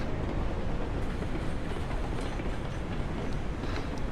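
A train rolls along the track in the Railroads Online video game, giving a steady dense rumble with faint rhythmic clicks from the wheels, moderately loud and continuous with no talking.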